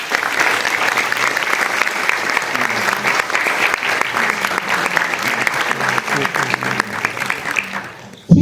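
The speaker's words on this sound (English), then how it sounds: "Big round of applause for Jackie Thomae for Germany." A festival audience applauds an author at a European literature event in Delhi, with dense sustained clapping from a large crowd that fades toward the end, while a voice talks faintly beneath it.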